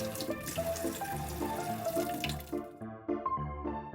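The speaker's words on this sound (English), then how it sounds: "If you need to fill up a bucket with water, but can't fit it in the basin" Tap water runs steadily through a cut-off plastic bottle used as a funnel into a bucket, a continuous splashing stream with dripping textures over soft background music.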